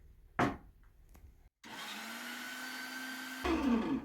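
Rabbit meat being minced in an electric grinder: a sharp knock, a brief silence, then a steady motor whine running for about two seconds before it rises and strains briefly.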